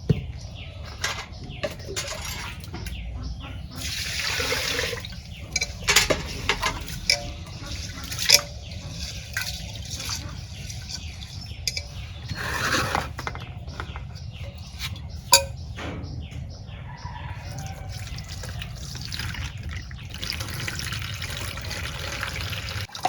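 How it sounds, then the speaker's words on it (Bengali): Sweet gourd being rinsed under running water in a home kitchen while cooking khichuri, with a steady splash and trickle of tap water, intermittent drips and small clatters, fairly close and continuous. "মিষ্টি লাউ ধুয়ে নিতেছি।"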